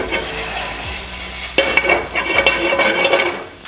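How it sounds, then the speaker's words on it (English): Butter sizzles in a hot pan with shallots, a steady frying hiss that jumps louder midway with scraping stir sounds and a light clink of cookware. "Toss in a little bit of butter."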